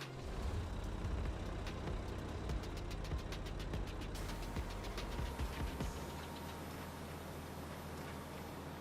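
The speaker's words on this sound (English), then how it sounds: "Start the engine." A tractor engine in the Farming Simulator 22 game turns over and settles into a steady low rumble. A faint rapid ticking rides on top of it, and no one speaks.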